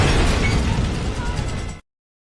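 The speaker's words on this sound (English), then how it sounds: "Nothing does it right like an explosion." A movie explosion roars with a loud, dense, full-range blast that rumbles heavily for nearly two seconds before cutting off abruptly into silence.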